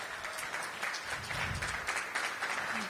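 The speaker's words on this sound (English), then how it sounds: "Let's give them a big round of applause." A crowd at the grand opening of a Shop Made in DC store applauds with fairly quiet, scattered clapping that carries on throughout, with some low background rumble.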